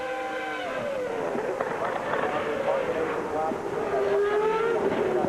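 A Ford-engined Formula 1 car at top speed during qualifying for the 1999 Canadian Grand Prix, its high engine whine holding steady with a slowly falling pitch under continuous commentary.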